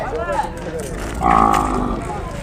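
Calves and cattle at a weekly livestock market in Krosuru, with one loud, close, sustained moo rising over a noisy crowd-filled background and earlier fainter lowing mixed in.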